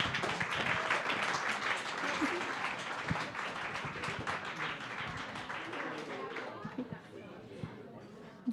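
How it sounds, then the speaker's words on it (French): An audience at a health and rehabilitation conference presentation in Montreal gives sustained applause, a steady wash of clapping that slowly thins out toward the end, with faint chatter mixed in. "Je peux vous donner une bonne main d'applaudissements."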